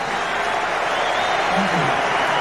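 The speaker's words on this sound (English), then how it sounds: "Give them a big round of applause." Football stadium crowd at a Premier League match between Manchester United and Charlton Athletic, a dense sustained wash of clapping and cheering that stays loud and even throughout, with a voice briefly audible above it.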